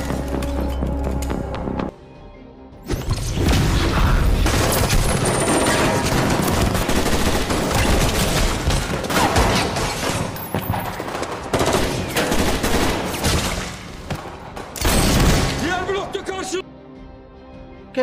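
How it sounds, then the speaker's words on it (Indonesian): Dense, rapid gunfire and machine-gun bursts from a film battle between special forces and enemies besieging a building, loud and continuous with a brief quieter gap early and near the end, mixed with music and effects. "Pertempuran sengit pun dimulai antara tim pasukan khusus dan puluhan musuh yang mengepung gedung tersebut."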